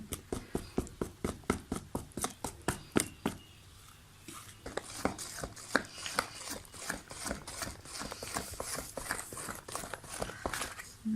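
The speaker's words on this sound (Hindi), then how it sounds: "अब हम इसे आस्ता आस्ता बीट करेंगे।" A whisk or spoon beats flour cake batter by hand in a bowl, giving a steady run of sharp rhythmic taps against the bowl, close and clear, that turn into a quicker, denser scraping stir.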